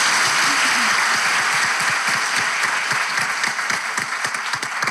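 An enthusiastic studio audience at a Turkish relationship-test show breaks into sustained loud applause, a thick continuous roar of clapping with individual claps poking through, easing slightly toward the end.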